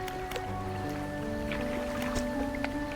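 A fishing boat's engine in the video game Dredge gives a low, steady droning hum, overlaid with faint splashes and small clicks.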